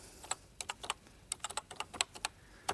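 Someone types "Home Publishing" on a 1980s home computer keyboard. The keystrokes are sharp and clicky, close up, in an uneven burst of about a dozen and a half presses, with no speech.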